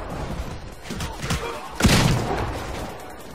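A shotgun fires in the Titanfall game with one sharp, heavy blast near the middle, surrounded by lighter thumps and other game noise at moderate volume.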